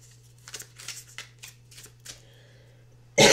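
Tarot cards riffle in a handful of short papery bursts from a deck being shuffled, close and fairly quiet, with a low steady hum underneath and a loud abrupt noise cutting in at the very end.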